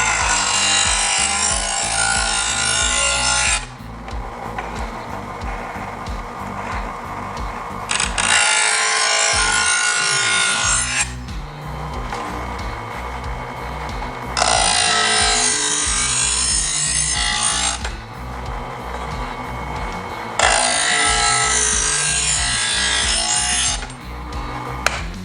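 Knife blade sharpened on the finest grind, long continuous rasping strokes in loud alternating bursts with short quieter pauses between them, close up with no talk.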